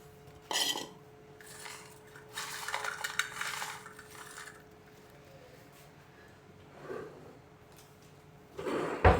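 Crispy spicy chicken-flavour fries are tossed in a metal pan, making a few separate bursts of dry rattling and clinking with quiet gaps in between.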